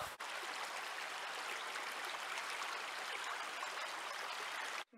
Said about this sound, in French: ce que j'adore là, c'est entendre la rivière, qu'on entend vraiment du camping-car